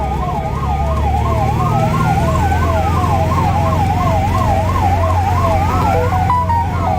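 An ambulance carrying donor organs on the road from Kochi to Kottayam sounds its siren: a loud, continuous, rapidly warbling wail over steady road and engine rumble, with no voices.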